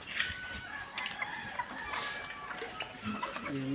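Chickens cluck and squawk in a busy farmyard, fairly faint and steady, with a rooster's crow rising near the end.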